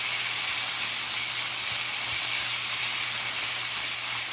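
Peppers stir-fry in a hot pan for chicken pad thai, giving a loud, unbroken sizzling hiss that stays even throughout.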